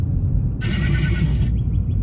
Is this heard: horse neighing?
yes